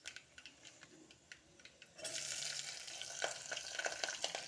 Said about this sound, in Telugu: అన్ని తాలింపులు మంచి స్మెల్ వచ్చేలా బాగా వేగిపోయిన తర్వాత అందులో ఉల్లిపాయ, పచ్చిమిరపకాయ వేసేసుకోవాలి